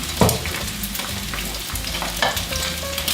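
Eggs fry in a hot pan for Thai noodles, a steady close sizzle broken by a few sharp spatula scrapes and stirs, with no one talking.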